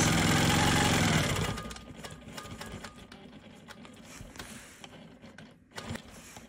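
A Quilt Maker Pro 20 quilting machine stitches a quarter-inch offset around a quilt block, whirring loudly at first, then running at a quieter, rattling mechanical pace with a brief bump near the end.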